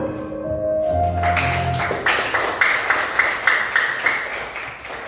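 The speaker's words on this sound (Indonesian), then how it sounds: "Kasih tepuk tangan untuk kita semua" Classroom of children clapping together after a relaxation exercise, a dense burst of hand claps rising over a fading tonal chime and continuing steadily.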